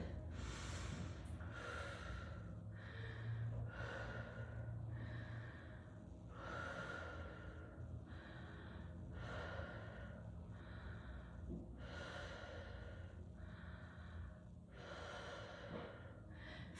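Heavy, rhythmic breathing after a hard workout interval, loud and close, with repeated sharp inhales and exhales roughly every second or two for the whole stretch, alone without talk.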